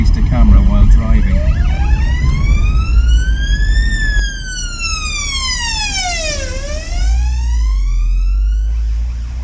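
Emergency vehicle siren heard from inside a moving car, wailing up and down loudly and close as it passes, over the steady rumble of the car.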